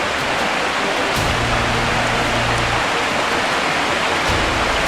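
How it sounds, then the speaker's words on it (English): Steady, dense hiss of rain falling continuously, with a faint low hum rising and fading underneath. "And of course it decided to start raining now."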